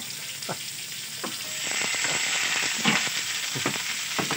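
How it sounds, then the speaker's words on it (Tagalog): Eggplant frying in a pan, a loud, steady sizzle that swells midway, punctuated by repeated scraping and tapping of a utensil against the pan. "Pinirito yan guys."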